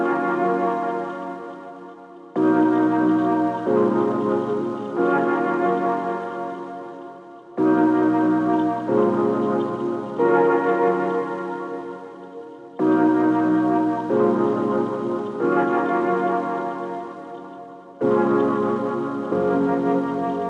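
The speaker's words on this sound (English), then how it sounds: "I only put the flute with some chords" Chords from a Flute Drama flute preset repeat in a slow progression, each block of sustained, bell-like tones swelling in and fading before the next, with brief breaks between phrases and no speech.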